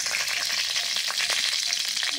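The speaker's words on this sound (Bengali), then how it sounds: "এবার ওই তেলেই দিয়ে দিচ্ছি আমি সামান্য একটু কালো জিরা, দুটো" Nigella seeds and slit green chillies hitting hot oil, a loud dense crackling sizzle up close, continuous and without talk.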